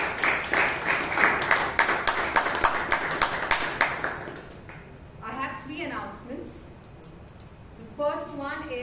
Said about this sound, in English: Let's give them all a huge round of applause.